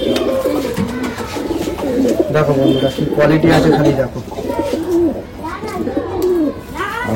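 Desi pigeons cooing in repeated throaty, rolling calls, several birds close by, while someone talks over them throughout.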